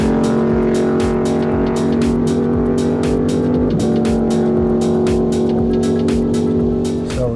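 A car drives fast across a dry lake bed, its engine a loud, steady drone held close throughout with a brief dip in pitch midway, no voices present.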